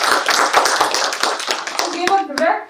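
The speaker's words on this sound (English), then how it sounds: "A big round of applause for him." An audience at the inaugural session of an international business research conference breaks into brisk applause: dense, close clapping that thins out toward the end as a voice begins.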